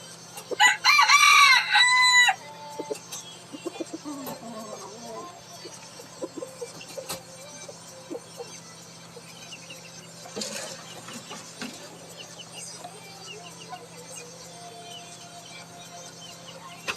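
A rooster crows loudly and near at feeding time, then quieter clucks and scattered bird calls from the chicken flock follow over a faint steady hum.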